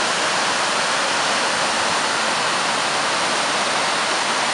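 Albion Falls roars with a dense, unbroken wash of rushing water, loud and close, filling the whole clip with steady broadband noise and no other sounds.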